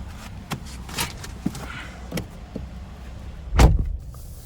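Someone climbs into the driver's seat of a 2021 Jeep Wrangler Sport 2.0T: scattered clicks, rustles and light knocks from the cabin, then a heavy thump near the end, with no one talking.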